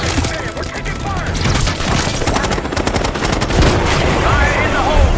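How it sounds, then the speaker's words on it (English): Rapid automatic gunfire in a Call of Duty Black Ops 6 cutscene, loud dense bursts rattling continuously amid battle noise, with shouted voices underneath. "Hey, we're taking fire!"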